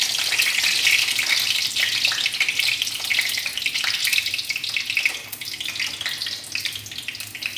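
Meat frying in hot oil, a loud, continuous close sizzle and hiss that keeps up steadily throughout with no talking.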